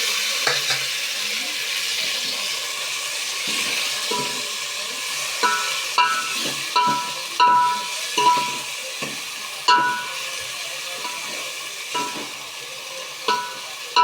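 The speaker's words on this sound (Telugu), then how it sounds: "ఉల్లిపాయ వేగింది, ఇప్పుడు టమాటా వేస్తాము." Onion and tomato fry in a pan with a steady, fairly quiet sizzle, while a utensil stirs and scrapes with irregular clinks and taps throughout.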